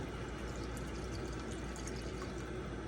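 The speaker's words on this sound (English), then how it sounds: "We're gonna add water." Water running steadily into a pot of rice, a soft continuous rushing pour at low level with no talk, even and unbroken from start to finish.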